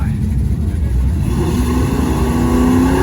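A drag racing car holds a loud, sustained burnout at a summer drag strip, its engine roaring steadily while the pitch slowly climbs, with crowd and track noise mixed into the constant din.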